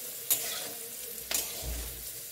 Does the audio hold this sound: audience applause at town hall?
no